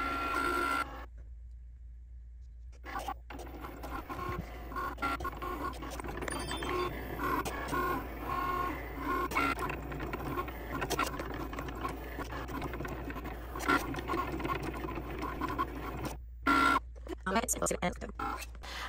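A Cricut cutting machine works through heavy cardstock, a soft mechanical whirring and shuffling of the carriage moving back and forth, with intermittent clicks and brief pauses, heard under someone talking throughout.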